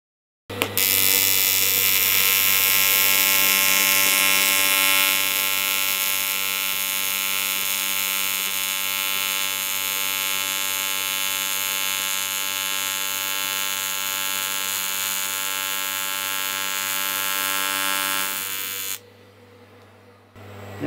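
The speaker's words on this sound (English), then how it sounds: "I'll turn it over and do the same weld on the other side." AC TIG welding on an aluminium alloy box section gives a steady, loud electric buzz with a constant hum, lasting about eighteen seconds before cutting off into quieter background noise.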